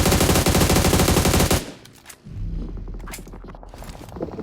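Automatic gunfire in PUBG on the Erangel map, heard as a loud, dense burst of rapid shots followed by scattered single shots and mechanical clicks.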